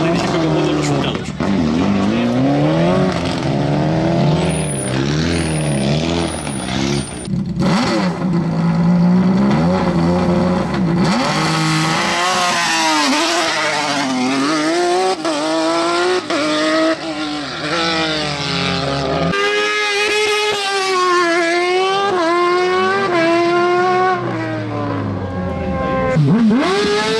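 A long-raced, well-worn race car at the Subida a La Plata 2024 hillclimb, its loud engine revving and climbing in repeated rising sweeps through the gears, close and continuous for the whole stretch, with brief tire squeal.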